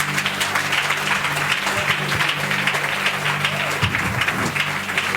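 A church congregation at a French-language worship service applauds the Lord, with steady, dense clapping that fills the room continuously, loud and close, and faint voices mixed in.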